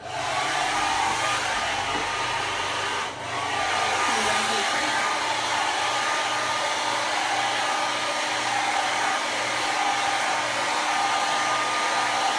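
A hair dryer blows steadily and loudly close by while a bob is dried with a round brush, with one brief dip partway through before the airflow resumes.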